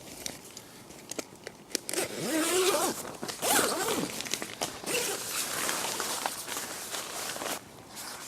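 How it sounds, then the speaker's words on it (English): A nylon tent ground sheet being zipped in around a Prologic Commander VX2 two-man bivvy, with repeated quick zipper pulls and rasps alongside light rustling and shuffling, close and fairly clear with no talk. "Got to carry on with the ground sheet, just zipping it in, working my way around."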